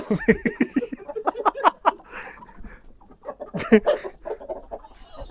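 Several of a flock of about 80 hens cluck and squawk close by in a busy, uneven chorus, with a louder outburst partway through.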